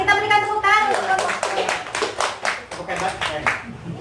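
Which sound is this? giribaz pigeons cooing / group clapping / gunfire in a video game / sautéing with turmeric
group clapping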